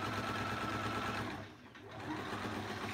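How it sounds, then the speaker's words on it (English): A sewing machine runs fast and steady stitching fabric pieces for a quilt block, a close mechanical whir that briefly slows and dips near the middle before resuming. "So let's just get these sewn together, and then we'll press"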